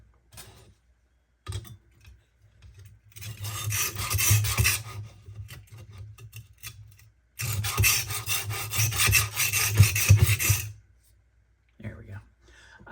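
A knife scrapes back and forth across a brand-new coarse diamond stone on a Sharpworx utility sharpener, giving two long gritty rasping bursts of strokes with a quiet gap between them, close and fairly loud.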